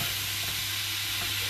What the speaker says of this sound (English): Just leave it to fry for a bit.